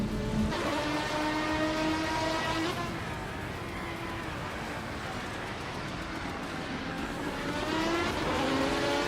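Race cars in a racing video game, including a 2004 Chrysler Viper GTSR, roar with a steady engine drone and rising and falling gear whines, continuous and moderately loud, with faint voices underneath.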